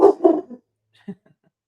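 A reactive rescue dog barks in a quick burst of two or three loud, close barks, followed by a short quieter yip after a pause.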